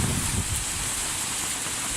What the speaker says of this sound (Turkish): Fırtına ve sağanak yağış Alanya